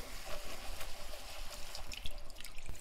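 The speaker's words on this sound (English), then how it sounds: "So we'll slowly pour the chicken stock in." Chicken stock poured slowly into a roux for a lemon piccata sauce while it is stirred, giving a soft, steady trickle with light dripping and a few faint spoon clinks, quiet and close.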